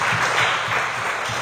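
A church congregation applauds together in a steady, dense wash of clapping that holds at an even loudness for the whole short moment, with a faint low murmur underneath.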